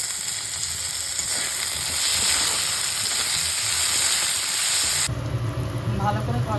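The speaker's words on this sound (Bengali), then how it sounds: "একটা ছোট সাইজের টমেটো কুচি, স্বাদ অনুযায়ী নুন দিয়ে এটাকে ভালো করে কষিয়ে নেব।" Chopped tomato with salt sautéing in a pan for bhindi masala, a loud, continuous close sizzle with stirring scrapes throughout, the sound dropping and shifting near the end, with no talking.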